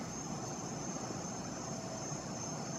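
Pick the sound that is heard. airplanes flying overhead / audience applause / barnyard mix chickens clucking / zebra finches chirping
airplanes flying overhead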